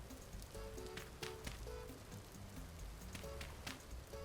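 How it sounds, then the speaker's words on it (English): Steady rain pattering down in the survival game Vintage Story, a dense continuous hiss of drops on surfaces with faint scattered ticks and chimes over it, no talking. "because it never stops raining here"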